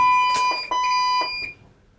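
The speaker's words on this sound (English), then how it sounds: "that's the security alarm off" A cathedral security alarm sounds in a loud, steady high-pitched electronic tone with a few sharp beeps, then stops abruptly and leaves a quiet room.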